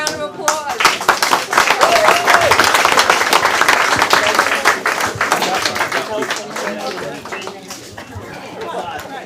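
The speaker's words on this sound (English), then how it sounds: "can I have a round of applause?" A Tea Party meeting crowd gives a loud, lively round of applause, dense close clapping with voices chattering and calling out over it, slowly tapering off toward the end.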